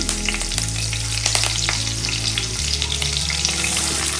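Spices for shev curry sizzle and crackle as they hit hot oil for tempering, a loud continuous fry close by, steady throughout with occasional sharp pops.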